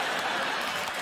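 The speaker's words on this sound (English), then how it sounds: "I can't believe people are applauding you" Studio audience applause on The Graham Norton Show, a dense, broad, steady roar of clapping filling the whole moment with faint laughter under it.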